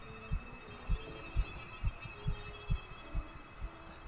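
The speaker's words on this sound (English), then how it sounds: "Can you hear the heartbeat intensifying?" Steady heartbeat pulses from the horror game Escape The Ayuwoki, about nine soft low thumps evenly spaced over a faint droning hum, with no talking.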